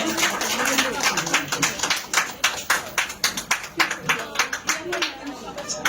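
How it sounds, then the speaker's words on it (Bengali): Audience clapping at a stage event, rhythmic close claps that swell into sustained applause over a few seconds, with some crowd chatter beneath. "সবাই একটু হাততালি দিব, জোরে করতালি দিব।"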